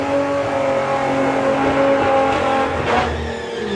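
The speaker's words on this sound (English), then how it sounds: "tree counts down for John, tree counts down for Rob, green lights for both of them. So the beast chasing down the Golf" Volkswagen cars, a VW Golf against a faster rival, launch off the line at a drag strip with loud sustained engine roar and rising revs, close and continuous, no talk.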